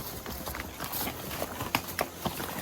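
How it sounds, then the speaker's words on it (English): Horse hooves clip-clop in an uneven rhythm as a horse works hard descending a steep, jolting trail at Fox Pen near Eminence, Missouri, with several sharper hoof strikes standing out over steady outdoor background noise. "the horse is working pretty hard coming down"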